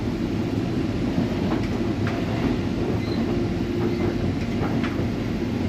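Steady low rumble of a passenger train interior on an evening run to Edinburgh, with faint rhythmic wheel clicks over the continuous hum and no voices.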